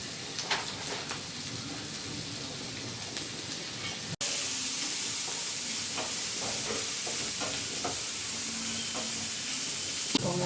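Sliced shallots, green chili and ginger sautéing in a pan, a steady sizzle and hiss that jumps louder partway through, with scattered stirring scrapes and small pops.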